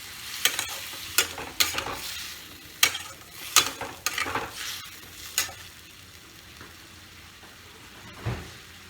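Pumpkin curry with added water is stir-fried in a pan: a series of sharp, irregular spoon scrapes and clatters over a low sizzle, thinning out into quiet with one last scrape.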